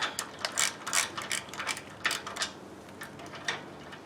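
A ratchet clicks in quick, uneven bursts while tightening a bolt during a Rancho 3-3.5 inch lift install on a Jeep Wrangler JKU, close and crisp with no voices.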